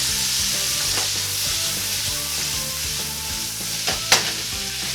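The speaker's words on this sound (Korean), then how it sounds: "조금 뒤적이시다가 바로 양파 넣어주고요. 기름이 잘 코팅되게 잘 뒤적여주세요." Green onion and onion frying loudly in oil, a constant close sizzle with scraping stirs and a sharp clink from the pan, no voices.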